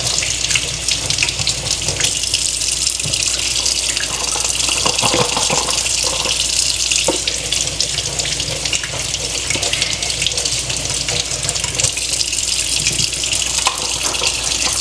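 Cherry tomatoes are rinsed under a running kitchen faucet, a steady loud gush of tap water splashing into the sink throughout, with faint rattling of the tomatoes under the stream.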